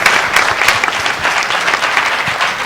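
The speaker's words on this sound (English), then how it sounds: "Can I get a hand clap for that?" Conference audience applauding, a dense, loud wash of hand claps filling the whole stretch, with no voice over it.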